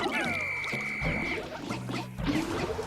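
Frog creature from the video game Pikmin 3 croaking in a few low, buzzy bursts that rise and fall over about three seconds, close and moderately loud over game ambience.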